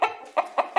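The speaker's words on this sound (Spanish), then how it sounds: "Gallina." A farm chicken clucks in short, bright bursts, three or four quick calls in a steady rhythm, close and loud with no speech over it.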